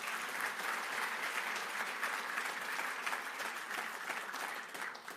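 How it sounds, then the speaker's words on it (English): Audience applause at an actuarial organization's annual meeting, a steady, dense round of clapping from a large crowd that holds evenly throughout and tapers slightly at the end. "A round of applause for them."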